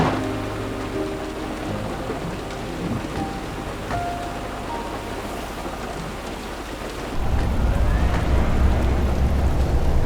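Rain falls steadily around a car being driven, a dense constant hiss that grows heavier and louder after about seven seconds, with no talk.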